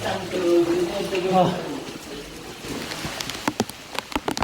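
Rain falls on the trail at Rangnagad Fort in a steady, hissing patter, with scattered drips and splashes growing clearer toward the end, while someone speaks over it at first.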